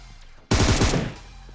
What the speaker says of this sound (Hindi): क्योंकि काफी देर से फायरिंग चल रही थी यहाँ पे